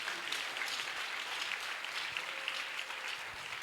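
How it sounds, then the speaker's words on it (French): A church congregation applauds an interpreter during a sermon, with steady, even clapping from a crowd held at moderate volume throughout, with no talking over it. "Acclamez pour mon interprète"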